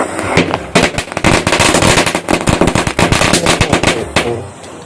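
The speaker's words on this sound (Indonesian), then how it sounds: "Nyalakannya lagi petasan kretek" Kretek-style firecrackers going off in a dense, rapid string of sharp cracking bangs, very loud and close, crackling on for several seconds before tapering off.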